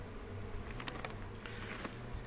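Honey bees buzzing around a beehive at an apiary during the honey flow, a steady low droning hum with a few brief sharper passes of individual bees flying close by, and no one talking.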